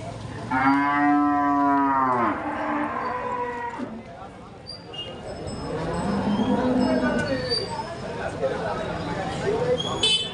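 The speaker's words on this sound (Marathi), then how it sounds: "ही गिर गाय बघा गिर गाय" A Gir cow at the Chakan cattle market moos loudly and long near the start, followed by another lower, drawn-out moo, with people talking and background noise around it.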